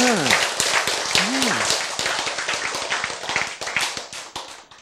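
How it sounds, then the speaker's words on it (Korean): An audience at a Korean science lecture on genes claps heartily, the sharp individual hand strikes clearly separated. A speaker's voice briefly cuts in near the start, and the clapping gradually loosens as it goes on. "자 여러분 이 정도 되면 박수 한번 쳐야 될 거 아니에요?"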